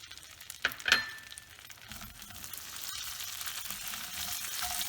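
Brown sugar and nuts such as hazelnuts or almonds melting together in a pan, giving a close, soft sizzle that builds gradually, with a couple of sharp scraping clinks from stirring early on and no talking.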